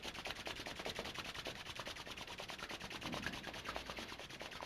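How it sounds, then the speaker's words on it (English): Palms rubbing together briskly in a steady, even rhythm for warmth during a Taoist yoga session, soft and close with no talking. "let's begin rubbing the hands together to create some warmth"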